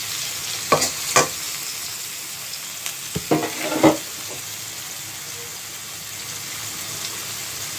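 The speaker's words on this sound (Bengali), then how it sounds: "তারপর একটি কড়াইয়ের মধ্যে পেঁয়াজগুলোকে হালকা করে ভেজে নিতে হবে" Onions frying lightly in oil in a wok for a tengra fish curry, giving a steady soft sizzle with a few sharp scraping stirs near the start and middle, no talking.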